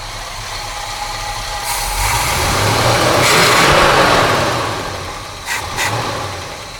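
A 1970 Chevrolet C20 truck with a factory big-block 402 V8 revving up, rumble swelling to a loud peak mid-clip then easing back to idle, followed by a couple of short blips.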